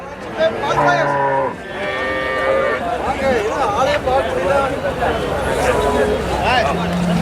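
Crossbreed HF (Holstein Friesian) dairy cows moo loudly a few times nearby at a cattle market in Erode, Tamil Nadu, long low calls, while people talk over and between them.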